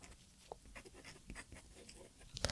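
A felt-tip marker writes on fabric during dressmaking, giving soft, close scratchy strokes in short irregular bursts at low volume with no voices.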